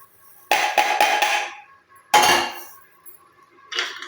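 Roasted ingredients for a homemade hair oil clatter into a dry steel mixer jar, with a rapid rattling burst followed by a second pour and a brief final clink, close and loud with no talking.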